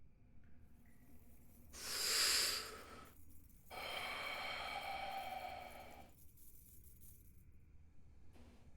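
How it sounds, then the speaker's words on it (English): Deep, slow breathing of a dragon in a neighbouring chamber, heard as two long, airy hissing breaths, the first a loud swell and the second a sustained exhale, alone against quiet background noise. "you hear the deep breathing of what can only be described as a dragon in the next chamber over"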